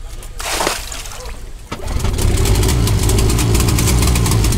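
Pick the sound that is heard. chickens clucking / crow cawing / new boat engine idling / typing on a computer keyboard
new boat engine idling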